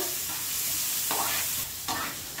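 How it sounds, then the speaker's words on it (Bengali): Green chillies and onion sizzling in oil while being stirred, a dense hiss with a few scraping strokes of the spatula, close up and steady. "কাঁচামরিচ দেওয়ার পরে একটু ভালো করে ভাজতে হবে কাঁচামরিচ পেঁয়াজটাকে"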